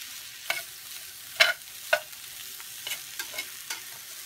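Food browning in a pan gives a soft, low frying hiss, punctuated by several sharp clicks and scrapes of stirring or pan handling spaced a second or so apart.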